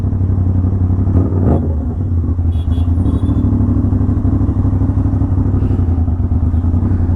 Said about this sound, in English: I did not expect this exhaust to be so much loud.